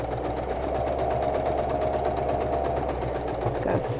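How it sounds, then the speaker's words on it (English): A sewing machine runs steadily at close range, stitching forward and backward across a pencil case, its motor holding an even whirring drone for the whole stretch with a faint change near the end. "We'll do a couple of forward then backward stitches."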